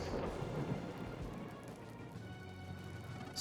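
A thunderstorm rages over a stormy sea in the Sea of Stars video game, with steady heavy rain and a deep rumbling of thunder filling the whole stretch.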